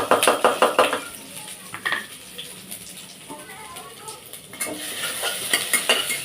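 Ground paste of coconut, green chili, ginger and garlic stirred into hot oil with cumin and mustard seeds for udad dal amti, sharp scraping spoon strokes and clinks over a steady sizzle, close by.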